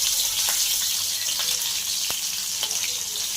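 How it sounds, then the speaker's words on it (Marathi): Green chili dropped into two spoons of hot oil for tempering, frying for okra bhaji, giving a steady close broadband sizzle with a few soft pops and crackles. "पहिली मिरची टाकून घ्यायची, मिरची जरा तळसून घ्यायची"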